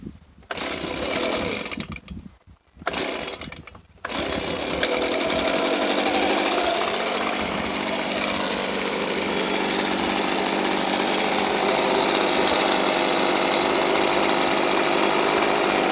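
A Stihl BG55 leaf blower engine running on choke and bogging: two short loud bursts, then a steady, loud, close-up roar that holds without a break to the end.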